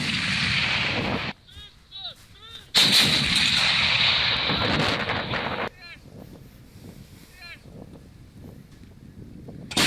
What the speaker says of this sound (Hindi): किस तरीके के धमाके हो रहे हैं आप सुनिए